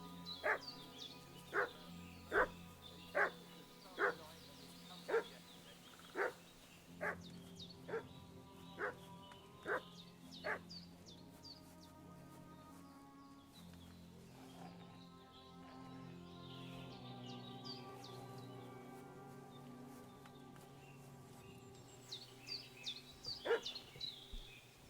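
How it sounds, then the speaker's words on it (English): A dog in the medieval village of Kingdom Come: Deliverance 2 barks in a steady series of about a dozen evenly spaced woofs, then goes quiet under faint background ambience before a few more barks return near the end. "What's that dog making such a fuss about?"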